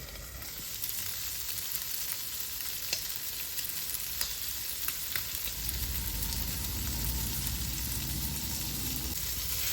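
Prawns roasting with chilli powder over a low flame give off a continuous close sizzle with a few sharp pops and a low rumble from the stove, with no talk.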